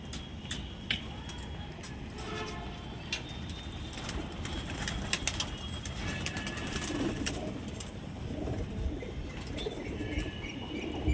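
Pigeon wings flap and flutter in quick bursts close by as the restless bird is handled, with scuffling and a faint coo against a busy background.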